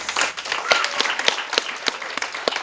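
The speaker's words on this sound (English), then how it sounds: "Please give them a big round of applause" An audience claps at a Mrs Africa 2022 crowning ceremony, a dense, steady round of applause with sharp individual claps standing out, loud and sustained throughout.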